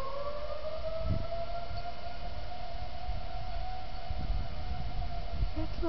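Tornado civil defense sirens in Tallassee, Alabama wail steadily at once, their long rising and falling tones overlapping across a wide outdoor area, carrying loud and unbroken throughout with a low rumble of wind beneath.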